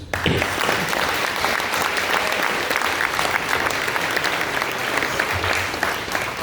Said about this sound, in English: They, along with all of our distinguished medical professionals who are here tonight, are the ones who deserve the loudest round of applause.